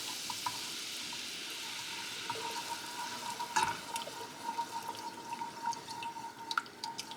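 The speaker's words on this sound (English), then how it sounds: "now I'm actually going to add in a cup of heavy cream slowly" Heavy cream poured slowly into a pan of garlic, giving a soft sizzle and faint liquid trickling with a light, steady hiss and occasional drips, quiet and with no one talking.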